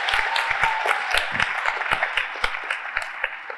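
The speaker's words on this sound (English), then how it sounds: "let's give him a round of applause" Applause and cheering from an audience at a TV series premiere Q&A panel, a steady mass of clapping with sharper individual claps standing out, fairly close and continuous throughout.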